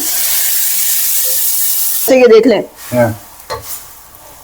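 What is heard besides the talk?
hot water added to sizzling hot pot spices and garlic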